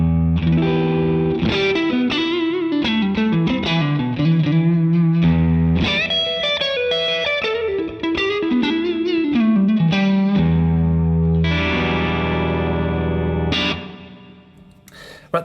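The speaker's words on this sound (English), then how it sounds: "let's try Room" Distorted electric guitar chords and melodic lines play through an MXR M300 reverb pedal on its Room setting, with decay turned back and tone at the middle, giving a short roomy ambience that rings out after the final notes.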